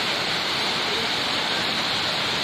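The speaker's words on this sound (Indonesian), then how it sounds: "Ada pancurannya. Ya, itu curugnya, Curug Balong Kiara." The Curug Balong Kiara waterfall roars as a dense, steady rush of falling water, loud and close, filling the whole stretch without any break.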